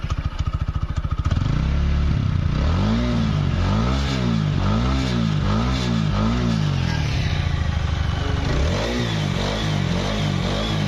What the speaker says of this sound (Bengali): আপাতত আপনাদের গাড়ির সাউন্ডটা শোনেন গাড়ির সাউন্ডের কি অবস্থা